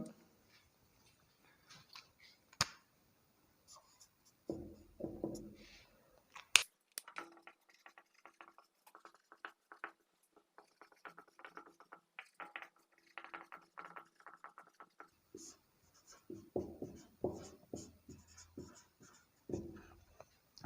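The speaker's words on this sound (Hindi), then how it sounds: "तो मैं इस बात को यहाँ पे लिख दे रहा हूँ।" Chalk or marker scratches steadily on a board in a physics class, a long run of close, dry squeaks and taps in bursts and strokes, with quiet pauses between.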